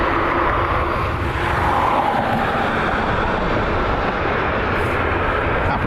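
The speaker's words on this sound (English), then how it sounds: "737-800 heading out. United Airlines flight 1645" A United Airlines Boeing 737-800 departs Cleveland Hopkins airport, its jet engines producing a loud, steady broadband roar that holds unbroken throughout.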